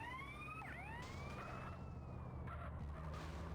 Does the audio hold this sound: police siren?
yes